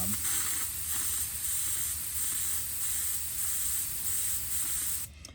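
Close, steady airbrush spray of paint hisses continuously for several seconds, then cuts off abruptly at the end, with no talking.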